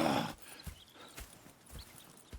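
Horses in the Red Dead Redemption 2 video game, with faint clip-clop hoofbeats and scattered soft thuds following a brief louder burst at the start, heard at low volume.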